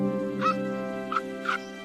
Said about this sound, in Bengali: এত হাঁস!